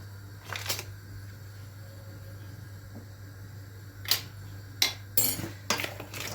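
A utensil stirs mixed vegetables and meat, coated with onion, garlic and spices, in a tagine dish, producing scattered clinks and scrapes against the pot. Several sharp knocks come in a quick cluster near the end over a faint background hum.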